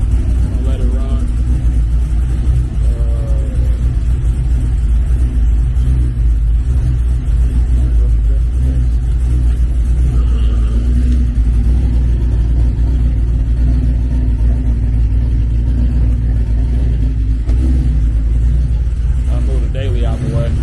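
A Cadillac V with a slow-starting, weak battery runs steadily nearby, its low engine rumble constant throughout and occasional voices talking over it.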